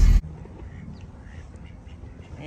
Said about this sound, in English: Here, ducky, ducky, duck.